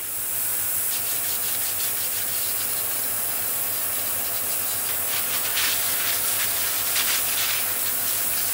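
Hand scrubbing of the front panel from a Schaublin 22 machine, a steady close rubbing and brushing hiss with soft repeated strokes over a constant background hum, no talking.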